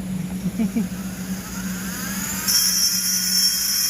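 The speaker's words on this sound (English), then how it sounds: "Thought the grinder locked up there for a minute" A die grinder ports a Husqvarna 51 chainsaw cylinder, whining steadily up close at a high pitch that climbs and brightens partway through, with a low hum underneath.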